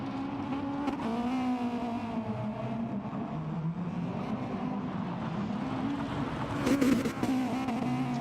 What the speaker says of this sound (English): We'll have a P1 Apache going for a drift.